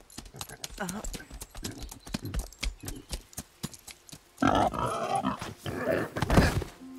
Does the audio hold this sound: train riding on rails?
no